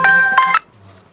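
A mobile phone sounds a bright, melodic ringtone for an incoming call, a short burst of a few clear tones close by before it cuts off into quiet.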